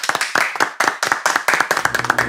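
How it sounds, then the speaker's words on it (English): A school class clapping in welcome for a new teacher, a brief burst of brisk, uneven hand claps from a small group close by. "A round of applause for him."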